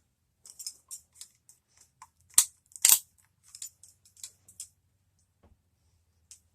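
Cartridges being loaded into a Wilson 1911 pistol magazine, a sparse run of small sharp metallic clicks and snaps, two louder clacks near the middle, close and alone in a quiet room.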